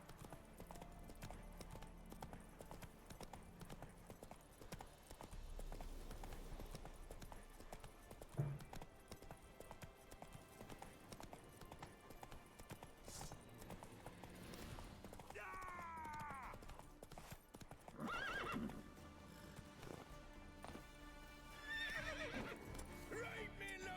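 Roach, a horse in the video game The Witcher 3, trots with steady hoof clip-clops and lets out several neighs and whinnies over a busy, layered game soundscape.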